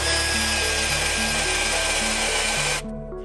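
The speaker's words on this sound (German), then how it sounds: "Und dann einfach losbohren." A power drill with a 4 mm bit bores into the roof of a VW T4–T6 van, a loud steady high whine running close and continuous for nearly three seconds before cutting off.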